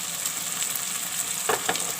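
Onion and sauce frying in a pan, a steady close sizzle with a couple of brief stirring scrapes near the end.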